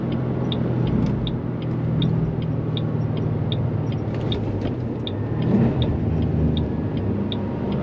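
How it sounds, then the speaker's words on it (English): A V8 car drives through a corner on a road with a live rear axle, its engine a steady deep rumble heard from inside the cabin, continuous and close with no talk. "it's just that V8 just sounds so awesome"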